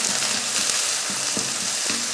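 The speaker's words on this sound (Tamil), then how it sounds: "இதை வதக்கிடலாம்." Onion sizzles with mustard seeds and curry leaves in hot oil. Dense, steady frying hiss fills the brief moment, with soft stirring taps and no voices.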